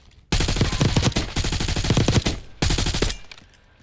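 Rapid automatic gunfire from Call of Duty Black Ops 6 in two loud sustained bursts separated by a brief pause, close and dense with no talking.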